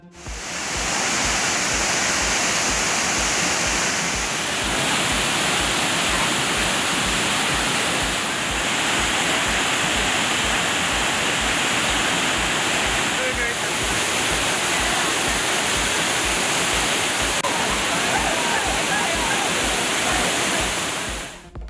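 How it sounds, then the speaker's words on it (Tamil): Water roaring down Thirparappu waterfall in Kanyakumari district, a loud, steady, unbroken rush of falling water heard close up for the whole stretch. "கன்னியாகுமரி மாவட்டம் திருப்பரப்பு அருவியில் ஆர்ப்பரித்து கொட்டும் தண்ணீர்."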